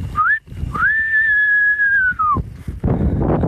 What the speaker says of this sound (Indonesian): Coba bersiul wa.